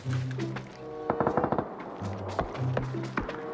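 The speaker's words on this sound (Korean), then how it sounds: "총소리 두 개, 세 개, 네 개 소리 다 나죠" Gunfire in the battle royale game PUBG (Battlegrounds) crackles in short rapid bursts and single sharp shots, layered over steady tonal game sounds across a few seconds.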